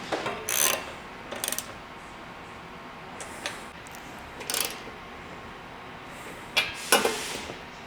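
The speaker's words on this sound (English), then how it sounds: "we can go ahead and tighten up the bolts and nuts holding the feet to the roof" Under an Allen wrench, roof rack bolts and nuts on a Toyota 4Runner are tightened in short bursts of metallic ratcheting clicks, several quick scraping turns spaced out across the clip, close by and fairly quiet.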